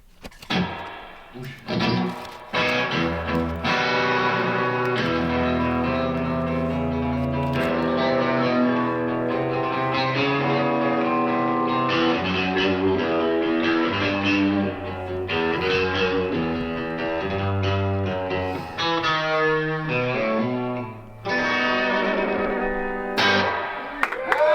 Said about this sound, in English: Can we hear the reverb?